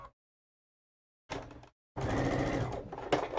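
Near and alone, a sewing machine stitches quilt block pieces together, with a brief burst of stitching, a pause, then a longer steady whirring run.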